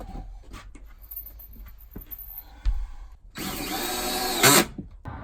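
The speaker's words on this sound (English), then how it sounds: "Phillips bits like to spin and strip out the head of a screw, but they're working just fine" A power driver fitted with a Phillips bit sinks a screw into furring strips during a camper van build, giving one loud whirring burst near the end after quiet scattered handling knocks.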